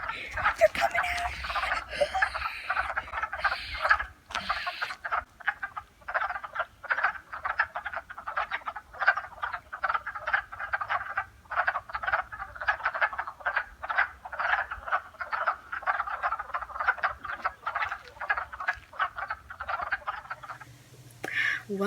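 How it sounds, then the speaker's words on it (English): A loud spring chorus of many frogs croaks in rapid overlapping pulses outdoors, nearly continuous throughout, thinning briefly near the end. "We discovered frog paradise."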